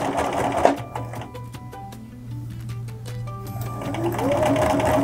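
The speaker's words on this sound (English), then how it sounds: "The smooth sounds of the sewing machine are very soothing." A sewing machine stitching a puppet runs steadily nearby, a continuous mechanical whir with rapid ticking stitches and a low hum that swells slightly toward the end.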